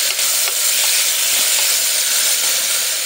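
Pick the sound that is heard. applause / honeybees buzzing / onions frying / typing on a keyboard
onions frying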